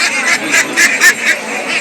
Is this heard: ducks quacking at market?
yes